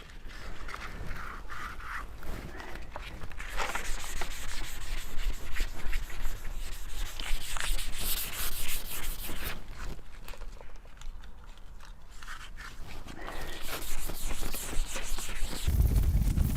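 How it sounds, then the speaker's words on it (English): Wet 800-grit sandpaper rubs lightly over primer on a car body panel, a continuous close scratchy swishing in rhythmic back-and-forth strokes with brief pauses. "we're just going to start lightly sanding."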